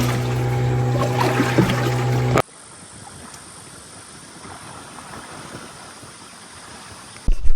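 A raft on the Napo river in the Amazon rocks on the waves, with a loud burst of engine and water noise, then a long stretch of soft lapping and wind before a short louder surge at the end.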